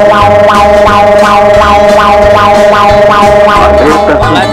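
A Mexican seismic-alert alarm siren blaring very loud and close, a steady sustained tone over repeating pulsing beats, alone with no talk.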